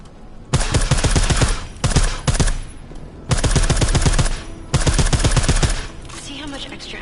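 Suppressed automatic gunfire from the video game Deus Ex: Mankind Divided comes in several rapid bursts of muffled thudding shots separated by short pauses, loud and close, with a faint voice talking between bursts.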